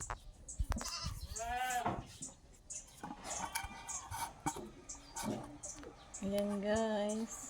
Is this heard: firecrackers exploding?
no